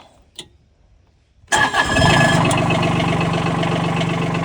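A Bobcat MT100 mini track loader's diesel engine cranks after glow plug warm-up, catches with a loud burst and settles into a steady, close, rumbling idle, preceded by a faint click and near silence.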